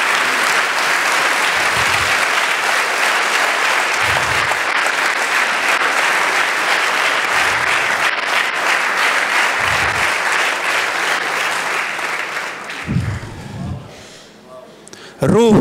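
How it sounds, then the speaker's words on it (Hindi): A church congregation gives loud, sustained applause for Jesus of Nazareth, dense clapping that holds for several seconds before tapering off, with a voice breaking in near the end. "यीशु नासरी के लिए जोरदार ताली।"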